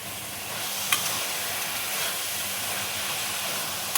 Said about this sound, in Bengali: ছোট 2 চামচ দেখো ঘি দিয়ে দিচ্ছি